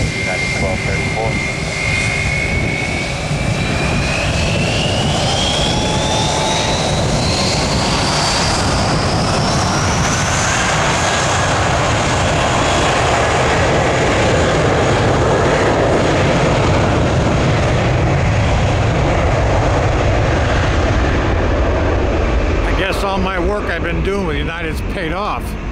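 A United airliner takes off from runway 1 right at Tampa, its engines roaring loud and steady throughout with a rising whine, fading slightly near the end as it climbs away.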